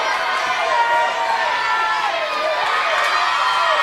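A wrestling arena crowd roars in a steady, dense wash of cheering and shouting that holds loud and even throughout.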